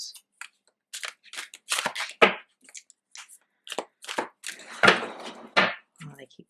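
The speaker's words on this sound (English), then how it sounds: "I'm going to do one more shuffle." Tarot cards shuffled by hand during a reading make a quick run of crisp, close riffling snaps and flutters in irregular bursts, with brief quiet gaps between.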